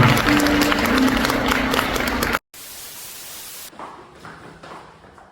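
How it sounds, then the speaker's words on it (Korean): Wedding guests at a ceremony in Uijeongbu give a loud, dense burst of applause that cuts out abruptly, then continues as a softer, noisier wash of clapping. "박수 부탁드리겠습니다."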